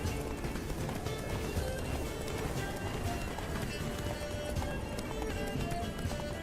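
Hooves of a galloping horse in The Witcher 3 pound in a steady rapid rhythm throughout, set in a busy game soundscape with a faint whinny and background effects.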